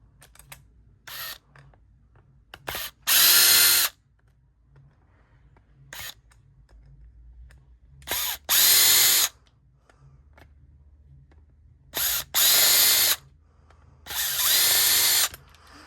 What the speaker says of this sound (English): Battery drill makes all the difference in the world.